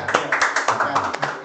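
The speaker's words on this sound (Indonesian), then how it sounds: "Tepuk tangan dong semuanya." Scattered clapping from a small group at an informal talk show gathering, uneven slaps overlapping briefly with a voice in the background.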